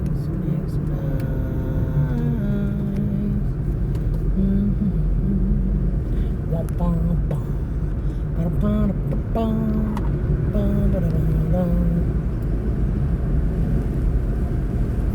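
A car drives along a shaded road, its engine and tyre rumble steady and close, while a voice talks intermittently over it.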